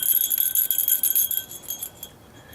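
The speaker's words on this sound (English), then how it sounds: "So I thought maybe a little jingle bell." A small jingle bell for a Christmas ornament jingles with bright, shimmering rattles that fade out over a couple of seconds.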